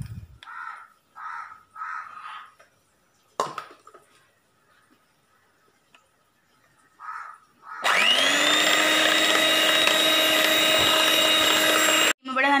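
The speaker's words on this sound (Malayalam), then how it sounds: "1/2 കപ്പ് വിപ്പിംഗ് ക്രീം ഒഴിച്ചു കൊടുത്ത് ഒന്ന് ബീറ്റ് ചെയ്തെടുക്കാം." An electric beater whips half a cup of chilled whipping cream, starting with a loud, steady high-pitched motor whine after some brief kitchen clatter and short bursts of talk, running close and continuous for several seconds.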